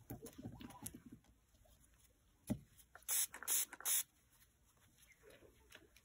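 Green spray paint hisses from a can in three short, loud bursts close by, with quieter handling noise before and after.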